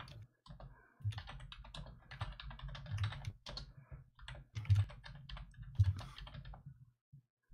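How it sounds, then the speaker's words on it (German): Someone types rapidly on a computer keyboard in irregular bursts of close clicking keystrokes. Short pauses break the typing, and a few keys land with louder thumps; no one speaks. "Aha, irgendwer tippt da."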